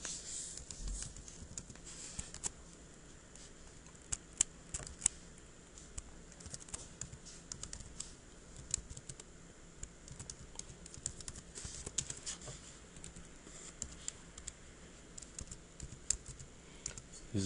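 Quiet, irregular clicking of computer keyboard keys as C code is typed, faint and close, with uneven bursts and short pauses throughout and no talking.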